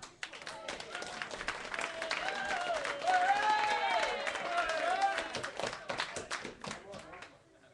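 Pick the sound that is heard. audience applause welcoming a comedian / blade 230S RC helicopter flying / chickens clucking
audience applause welcoming a comedian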